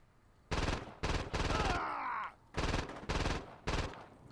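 Rapid bursts of automatic gunfire from a Saints Row 2 firefight come in about six loud, close volleys with short gaps, one longer stretch mixed with a brief groan-like tone.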